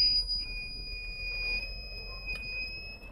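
A solar-powered soil moisture plant watering alarm sounds a steady high-pitched electronic tone, thin and continuous over a faint room hum.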